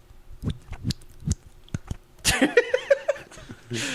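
A voice makes a string of small wet clicks and pops, irregularly spaced, then a burst of squeaky, chattering mouth noises and a breathy laugh, imitating blinking.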